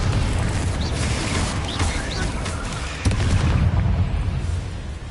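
Confringo fire spell blasts in Hogwarts Legacy, a dense rumbling barrage of booming impacts with crackling bursts and a sharp hit near the middle, over steady low game rumble.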